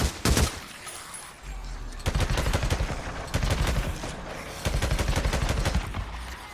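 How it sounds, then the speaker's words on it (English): Bursts of automatic fire from an MG55 machine gun in Days Gone, several rapid volleys with short pauses between them, loud and close. "Not having much luck with the MG55, man."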